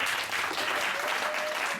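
A church congregation at a Sunday service claps and cheers in dense, continuous applause, loud and close, filling the whole short moment.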